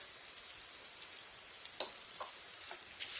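Rice rava fries in a pan, giving a soft continuous sizzle with a few brighter crackles and stirring scrapes toward the end, close by and with no talking.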